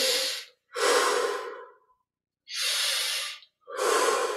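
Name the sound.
deep breathing during Kriya Yoga breathing exercise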